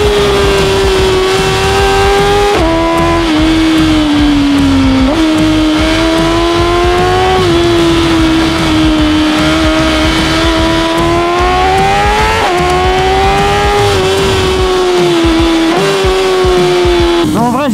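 A BMW M1000RR superbike screams at high speed near 300 km/h, its engine a loud, continuous high-pitched wail rising and dipping through gear changes, with heavy wind rush and a faint voice underneath.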